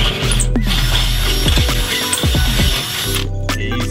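A power drill boring pilot holes whirs steadily at close range, its motor pitch dipping and surging several times as the bit bites in, then settling into a steady run.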